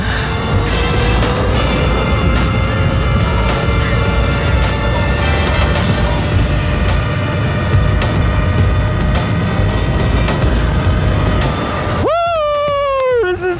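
A 2023 Talaria Sting R electric dirt bike on a full-throttle eighth-mile top speed run, with steady loud wind roar and a rising motor whine throughout, ending in a sharp sweeping tonal squeal in the final second.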